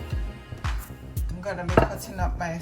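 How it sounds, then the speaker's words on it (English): Knife chopping an onion on a cutting board in a home kitchen while cooking a Jamaican-style fish meal, a series of quick, close, evenly spaced thuds with a brief voice near the end. "So I'll be cutting up my onion."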